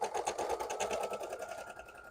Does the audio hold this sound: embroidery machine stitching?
yes